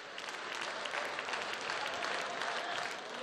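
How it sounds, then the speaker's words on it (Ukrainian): Lawmakers in a parliament hall applaud, a steady mid-distance patter of many hands clapping that lasts a few seconds without speech. "Після емоційної промови Скороход залишає залу під оплески."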